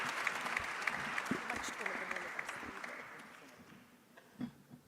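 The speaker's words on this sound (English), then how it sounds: "Round of applause." An audience applauds a minister being welcomed at a high-level WTO-ITC event on women and trade, a steady wash of clapping that gradually fades over several seconds.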